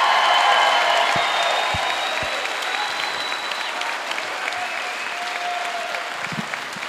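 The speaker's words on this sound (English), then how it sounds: "Can we just get, just for the sake of time, one massive applause for the United States military." Sustained applause from a large convention crowd fills the room, steady and loud, slowly easing off while a few voices sound faintly underneath.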